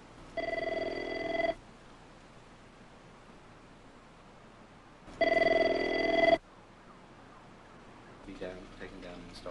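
A telephone rings in two long electronic bursts separated by a few seconds of quiet hiss, fairly close and loud, followed by faint rustling.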